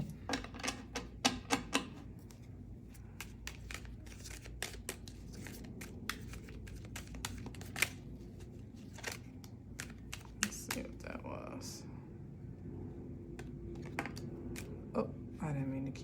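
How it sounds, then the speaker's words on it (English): Tarot cards being shuffled by hand in a quiet room, a run of soft riffling snaps and sharp flicks in irregular bursts, close and moderately loud, with quiet talking in between. "Oh, I didn't mean to keep shuffling"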